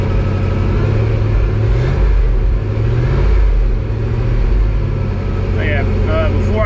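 A 1983 Chevy C-30 dump truck engine idling, a steady low rumble that holds throughout at close range, with someone talking over it.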